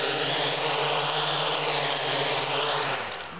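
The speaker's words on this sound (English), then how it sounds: "I'm gonna land right there, Carl, on the thing" A DIY quadcopter drone with strobe lights coming in to land, its rotors making a loud steady buzzing whine that holds, then tapers off at the end, with no voices.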